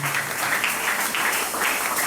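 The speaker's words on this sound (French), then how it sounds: "Si tu es là, tu peux acclamer fortement pour le Jésus" A church congregation at a charismatic service applauds and cheers steadily, a dense wash of clapping and voices held at an even level from start to finish.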